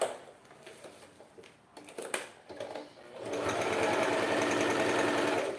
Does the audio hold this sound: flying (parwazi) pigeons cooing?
no